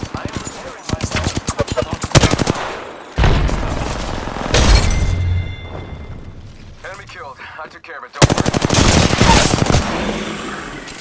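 Apex Legends gameplay gunfire: loud rapid automatic bursts in several long strings broken by short gaps, heavy booms and game effects in between.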